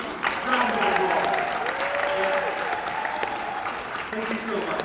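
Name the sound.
applause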